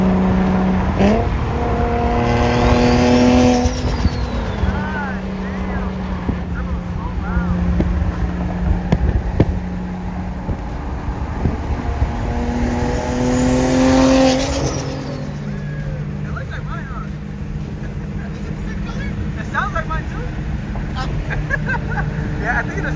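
Sports car engines rev and drone nearby as cars arrive at a car meet, with rising and falling engine pitch passes, wind buffeting and people talking over them.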